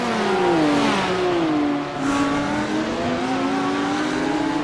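GT3 race cars in a racing video game roar in a close four-car battle, a steady loud engine drone with shifting pitch sweeps as they jostle for position, continuous throughout.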